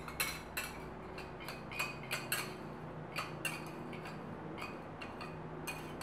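A spoon stirs milk and condensed milk together in a bowl for a tres leches cake, giving repeated light clinks and taps against the bowl at an irregular pace, close and quiet with no talking.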